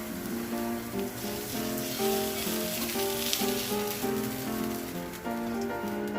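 Mackerel fillets pan-frying in oil give off a steady, close sizzle with light crackling pops, continuous and alone, over a low background tone.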